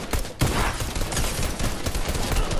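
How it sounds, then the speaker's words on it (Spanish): Dense gunfire in Fortnite, a continuous loud burst of rapid shots filling the clip with a brief gap near the start, no talking. "Un disparo ya."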